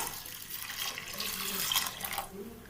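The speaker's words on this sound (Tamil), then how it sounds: "இந்த காய் நல்லா மூழ்கி அதுக்கு மேலே 1 இன்ச்சு தண்ணி இருக்கிற அளவுக்கு நம்ம தண்ணி சேர்த்துக்கணும்" Water pouring steadily into a pot of drumsticks (moringa pods) for soup, a close splashing rush that lasts a few seconds and then thins out.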